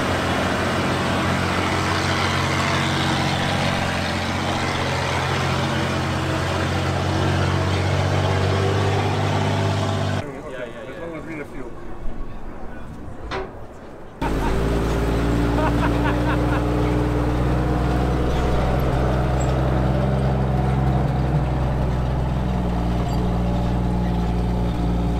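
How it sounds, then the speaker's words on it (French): A heavy recovery vehicle at a tank-day event for the 80th D-Day anniversary, its engine running with a deep steady rumble, cutting out briefly before resuming at full loudness, no talk. "c'est un véhicule de dépannage lourd"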